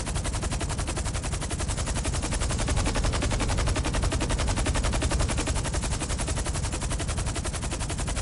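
Sustained automatic gunfire in GTA Online, rapid dense bursts of shots rattling continuously and loudly for several seconds with no voices over it.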